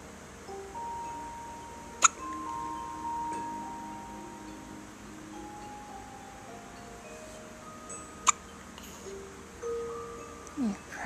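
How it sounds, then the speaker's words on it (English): A baby girl hiccups two or three times, each one a short sharp catch separated by several seconds, with soft background sounds and faint vocal tones in between. "I'm so sorry you have the hiccups."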